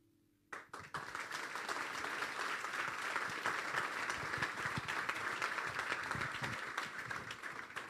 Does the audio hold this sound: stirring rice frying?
no